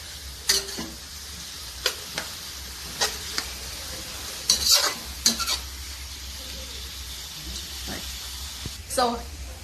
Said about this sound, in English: We're going to add some beef. I already washed and marinated with some crushed garlic and dry seasoning like some adobo powder.